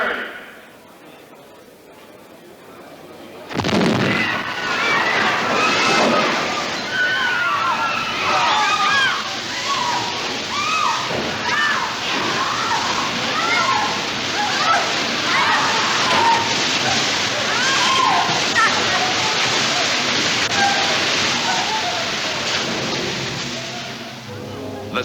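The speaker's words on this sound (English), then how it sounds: "a very big wall of water." A huge wall of water crashes onto a film set for the 1972 Poseidon Adventure and keeps roaring and sloshing heavily for over twenty seconds, loud and close, with faint voices underneath.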